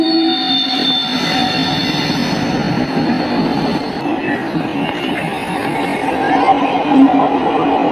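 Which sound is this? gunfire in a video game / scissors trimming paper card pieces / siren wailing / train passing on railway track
train passing on railway track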